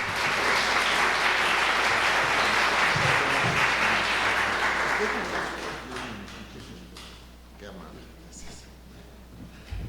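Listeners at an academic lecture applaud as the speaker is introduced, a steady round of clapping that gradually dies away, leaving quiet room sounds and faint voices.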